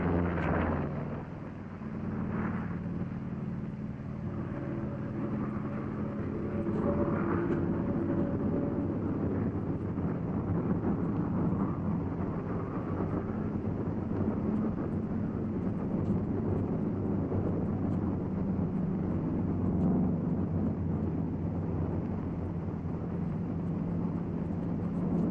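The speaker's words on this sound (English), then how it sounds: "You're flying your 47 down the runway." A P-47 fighter aircraft engine roars steadily during a 1943 takeoff run down a runway, a loud, constant low drone with wind-like noise and no talking over it.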